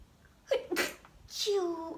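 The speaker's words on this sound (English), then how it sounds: "I'm about to sneeze, guys." A single sharp sneeze with a quick inhale and burst, followed by a short voiced sound trailing off, close to the listener.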